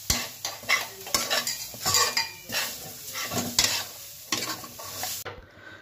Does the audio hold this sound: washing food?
no